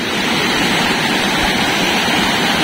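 Ditaolag Family Falls roars as a steady, loud, unbroken rush of falling water close by, with no speech.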